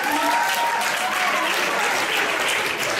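A studio audience claps in dense, sustained applause for the full three seconds, loud and evenly spread with no pauses.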